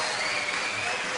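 Studio audience applause on a 1970s game show, a dense, continuous wash of many hands clapping at once, steady and fairly loud for a short burst.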